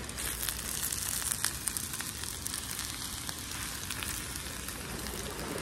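Cabbage cooking in a pan on a beach at Preston Beach, Weymouth, giving a steady, close hiss and crackle of sizzling that runs unbroken from start to finish with no voices.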